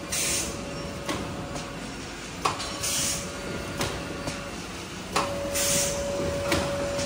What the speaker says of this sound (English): printer for the date or the box number